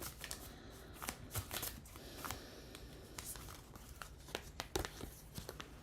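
Tarot cards are shuffled by hand in a series of quick, soft riffles and papery flicks. The bursts come close and irregularly spaced over a quiet background, with no speech.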